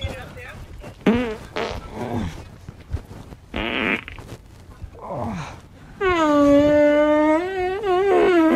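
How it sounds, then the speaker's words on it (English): A phone fart app plays through a portable speaker, sending out a string of separate short blasts with gaps between them, then a longer wavering raspy one, while people talk nearby. "we got this speaker and a little like fart app going"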